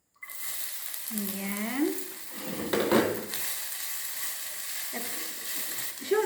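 Garlic sautéing in olive oil in a pan, a steady close hiss and sizzle throughout with a brief burst of crackle midway, while someone talks over it.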